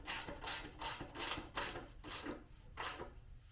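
A wrench ratchets in repeated strokes while tightening the chain tensioner on a Motovox mini bike fitted with a Predator 212cc engine, about seven rhythmic rasping clicks heard close and faint, with no talking.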